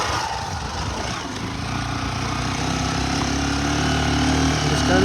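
A motorcycle engine drones steadily while being ridden along a road damaged by rain, a close, continuous mid-pitched hum that grows slightly louder toward the end.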